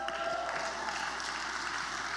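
A church audience at an evangelistic talk in Plymouth claps, a steady, even wash of applause heard from a little distance for a couple of seconds.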